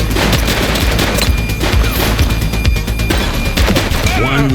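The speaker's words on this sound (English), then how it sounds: "He's shooting!" Heavy gunfire in The Precinct, a police shootout with dense, loud bursts of shots and crashes running continuously, with brief voices mixed in.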